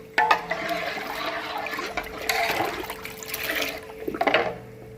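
Coconut solkadhi drink is poured through a strainer, a splashing, gurgling liquid pour that swells and fades in a few uneven surges over several seconds, close and without speech.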